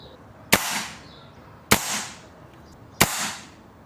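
A BRK Ghost air rifle, tuned for high power, fires three sharp, loud cracks spaced about a second apart, each followed by a brief fading ring, close with no talking.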